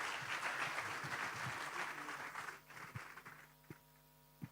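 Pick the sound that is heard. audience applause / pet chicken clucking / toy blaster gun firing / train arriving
audience applause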